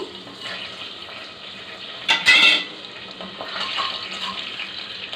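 Bay leaf, cloves, cinnamon, cardamom and cumin frying in oil in a pot, a soft crackling sizzle with a brief loud clatter of the pan partway through, no voices.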